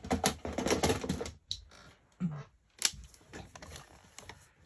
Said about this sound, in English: let me grab my trimmer